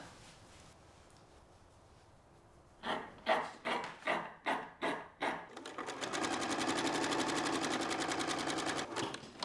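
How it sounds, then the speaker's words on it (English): A sewing machine stitches two layers of fabric together: a series of short, loud motor bursts comes first, then a steady, continuous run of rapid stitching, close and alone, with no talking. "I've stitched together 2 layers and then I've like frayed the edges to make a kind of ribbon"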